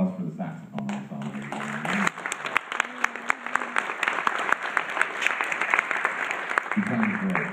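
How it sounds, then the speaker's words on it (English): Audience applause for a saxophone ensemble at an all-district honor band concert, a steady bed of clapping through the middle, with a voice talking over the start and again near the end. "how about a round of applause for the saxophone ensemble?"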